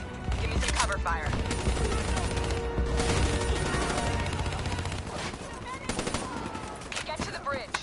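Repeated bursts of rapid automatic gunfire in Black Ops 3 crackle loudly and continuously, mixed with explosions and combat noise, with voices shouting over the firefight.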